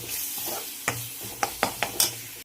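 Mutton and regular spices being sautéed in a pan, a steady soft sizzle with several distinct scraping clinks of a spatula against the pan, close and without speech.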